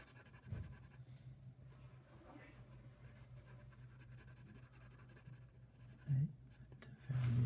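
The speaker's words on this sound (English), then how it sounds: "even just with the HB pencil, you can do almost everything" An HB pencil shades across paper in a soft, continuous, close scratching stroke, faint and steady, with a few brief louder scuffs near the end.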